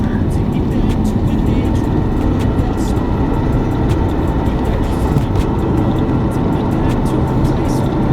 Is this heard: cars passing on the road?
yes